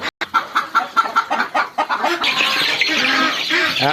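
A flock of chickens on a poultry farm clucking in a steady, rhythmic series of sharp calls, then a dense, continuous chorus of overlapping clucks close by.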